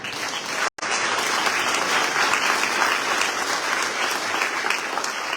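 An audience at an awards event honoring a class of young professionals breaks into sustained, loud applause, steady and dense, after a brief cut at the start.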